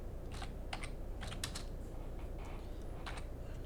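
Router commands typed on a computer keyboard produce irregular bursts of light key clicks over a soft background hiss.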